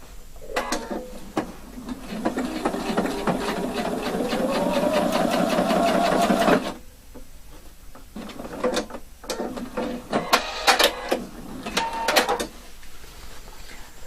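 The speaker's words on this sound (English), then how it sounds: "Then it's possible to sew the last piece up to the shoulder." A sewing machine runs steadily for several seconds, its motor whirring and its needle clattering as it stitches a lapel collar up to the shoulder, then stops, followed by handling clicks and short bursts of stitching.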